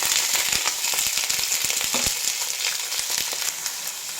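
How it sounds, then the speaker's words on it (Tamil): Sliced ivy gourd and curry leaves sauté in hot oil in a pan, a dense, continuous sizzle with scattered sharp pops and crackles throughout. "இது நல்லாவே வதங்கட்டும், பொன்னிறமாக மாறட்டும்"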